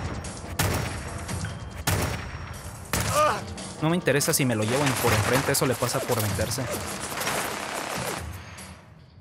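Gunfire in the video game Fallout 4, several bursts and shots mixed with game effects, heard under someone talking over the action.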